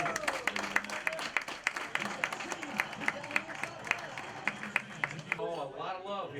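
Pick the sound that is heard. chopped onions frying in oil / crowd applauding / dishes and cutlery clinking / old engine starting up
crowd applauding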